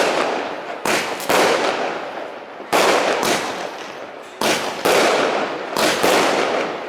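Fireworks going off at a cousin's birthday celebration outdoors: loud crackling bursts arriving in quick clusters, each decaying into a fizzing hiss before the next volley, with no talking.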